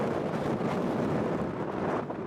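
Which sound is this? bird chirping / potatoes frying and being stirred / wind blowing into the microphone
wind blowing into the microphone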